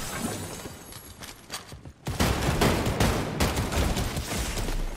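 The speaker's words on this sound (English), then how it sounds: "Why are you shooting him?" Gunfire in the video game Fortnite crackles in rapid bursts, quieter at first, then a sharp louder barrage of overlapping shots after about two seconds that continues densely to the end.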